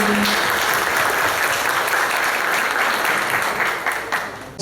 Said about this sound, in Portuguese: Vamos aplaudir os nossos participantes.